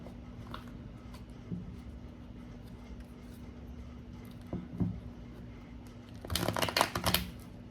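Tarot cards are handled and shuffled, a soft papery riffle swelling near the end after quieter scattered card handling over a steady low hum.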